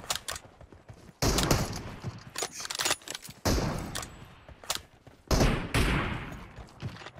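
Video game gunfire, with several loud, sharp bursts of rapid shots coming in separate volleys between quieter gaps and some faint mechanical clicks.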